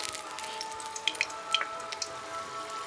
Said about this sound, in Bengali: বড়ি ভেজে নেব।